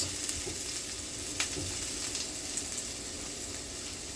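Vegetables for a beef ragu fry in a hot pan with a steady, close sizzle and crackle, broken by occasional small pops and stirring scrapes, with no voices.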